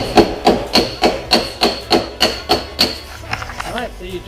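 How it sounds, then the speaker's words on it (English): A hammer knocks dents out of a Mercedes ML body panel, about a dozen evenly spaced metallic blows close up, followed by softer scraping and tapping. "Taking a few dents out."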